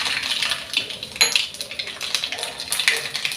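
Mustard seeds dropped into hot oil in a pan for a white pumpkin curry, giving close, bright crackling and scattered pops with light metallic clinks.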